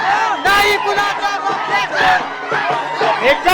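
A crowd of Maratha protesters at a reservation agitation cheers and chants loudly, with a dense, continuous swell of many voices shouting together, rising and falling in waves throughout.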